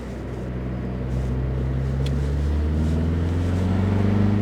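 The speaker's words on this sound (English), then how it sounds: "It just takes that quick moment to spool up the turbo. And once it does, it really gets going." A MINI JCW Convertible's turbocharged engine accelerates, its drone climbing steadily in pitch and growing louder as the turbo spools up, with no talk.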